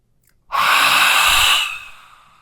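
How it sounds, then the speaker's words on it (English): A single forceful hissing exhale with the tongue stuck out wide during yoga breathing, loud and close, lasting about a second before fading into a softer trailing breath. "And you'll notice I'm making a bit of a hissing sound."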